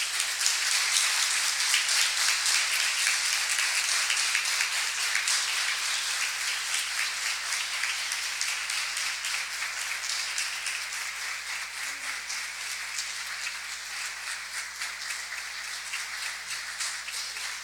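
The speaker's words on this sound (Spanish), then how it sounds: "se le damos un aplauso." An audience claps for an award recipient at a Central American forum, a steady, dense sheet of applause lasting the whole stretch with no voices over it.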